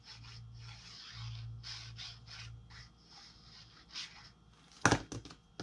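Glue being spread along the edge of a paper clutch purse, a soft continuous rubbing and scraping that rises and falls in short strokes, ending with a sharper brief rustle near the close.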